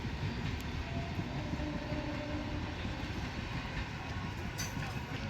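An express train runs through Bhiwandi railway station, a loud continuous rail rumble with rattling wagons and a faint clickety-clack sustained throughout, with no voices.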